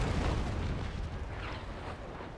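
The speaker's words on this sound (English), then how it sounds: "let's do the chain shot" Chain shot cannon fire roars from a warship in the Naval Action naval combat game, a heavy rumbling blast that rolls on and holds its loudness over a couple of seconds, with no voices.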